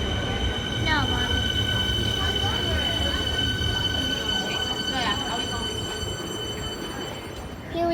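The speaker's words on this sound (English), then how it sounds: "Comeng train arriving into Caulfield" A Comeng train pulls into Caulfield station in Melbourne with a loud, steady rumble, wheels squealing and ringing overhead as it slows, while voices carry faintly across the platform.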